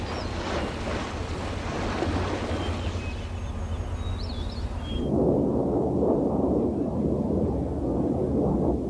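Water rushes and splashes with a broad, windy wash of waves during an aircraft ditching test, loud and continuous, shifting partway into a heavier, churning surge.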